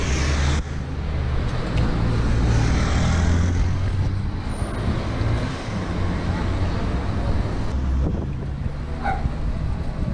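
Cars passing on a road beside a lowered VW Polo with threaded coilover suspension and 18-inch wheels, a continuous loud rumble of traffic mixed with wind buffeting on the microphone.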